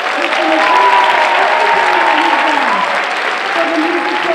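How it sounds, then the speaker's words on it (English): A school audience gives loud, sustained applause for a music teacher at a Brooklyn academy's winter holiday concert, dense clapping and crowd noise continuing without a break. "He deserves an excellent round of applause."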